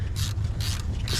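Ratchet clicking in quick, fairly close bursts while loosening alternator bolts on a Ford E-series van, with short pauses between the runs of clicks and no talking.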